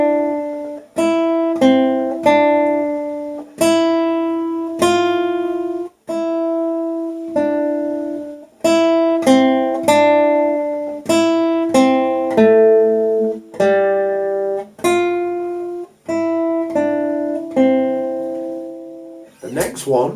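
Classical guitar plays a legato piece, a slow sequence of plucked notes left to ring into each other, clear and close with no speech.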